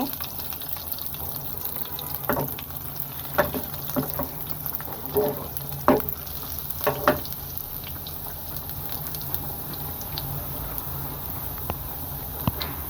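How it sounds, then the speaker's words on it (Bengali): Garlic and dried chili fry in oil in a pan, giving a steady faint sizzle with a few soft clinks and stirring taps scattered throughout, no talking. "রসুনটাকে আমি হালকা একটু ভেজে নিব"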